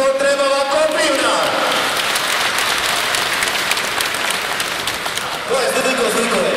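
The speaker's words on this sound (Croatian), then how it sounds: "A sada molio bi vas za jedan veliki, veliki, veliki aplauz" Concert audience gives a folk dance and culture ensemble a big round of applause, a dense, loud roar of clapping that swells after an announcer's voice and carries on before talk resumes.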